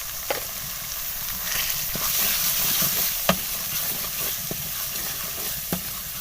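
Masala with red chili powder and turmeric fries in a pan for Lahori chickpea curry, giving a continuous close sizzle broken by sharp clicks and scrapes of stirring.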